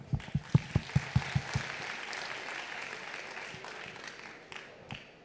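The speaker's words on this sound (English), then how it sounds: "Let us start with a big round of applause for the 10 startups." Applause at an innovation challenge final opens with a string of close, evenly spaced claps booming over a sound system, then settles into a quieter, steady crowd clapping with a few sharp claps near the end.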